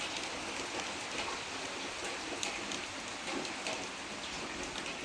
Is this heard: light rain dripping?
yes